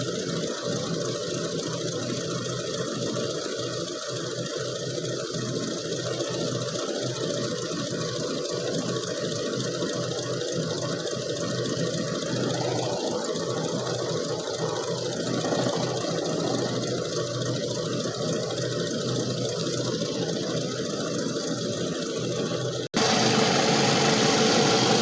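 A Toyota Camry engine idles during a coolant refill, a steady close mechanical hum with a fine buzzing whir that jumps slightly louder near the end, with no speech.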